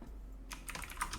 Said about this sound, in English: let's just start typing in names